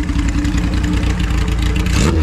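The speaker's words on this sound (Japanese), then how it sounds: "エンジンをかけて、 はい、 アイドリングと軽く吹かした音をお願いしたいんですけども" A motorcycle engine idles with a steady low rumble, then gets a light rev, loud and close, with no talking.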